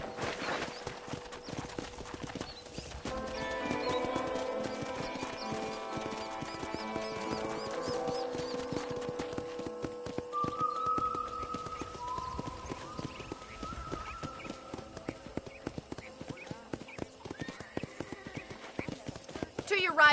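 Steady clip-clop of horse hooves at a trot in the video game Red Dead Redemption, with music playing alongside and a brief whinny partway through.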